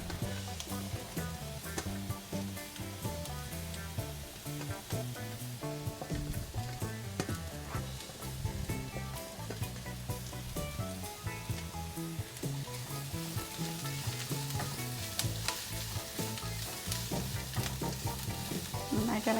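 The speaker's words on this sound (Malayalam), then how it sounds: "ഇനി നമുക്കതിലേക്ക് ക്യാപ്സിക്കം ചേർത്ത് കൊടുക്കാം. ക്യാരറ്റ് ചേർത്ത് കൊടുക്കാം." Capsicum and carrot being stirred in a hot pan, a continuous oily sizzle with repeated scraping and clinking of the spoon against the pan, steady and close throughout with no talking.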